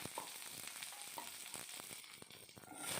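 Around ten peeled garlic cloves frying in a pan with chana dal and dried red chillies for a shallot chutney, a steady close crackling sizzle with scattered pops throughout.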